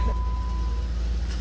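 A farm jeep's engine, used with a winch to pull a skid-steer stuck in a creek, gives a steady low rumble throughout with a faint thin tone above it and no clear separate start-up burst.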